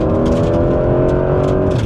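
A Porsche 911 GTS, 991.2 or 992.2 generation, accelerates hard with a loud, growly engine note, revs climbing steadily and close up, with no talking over it.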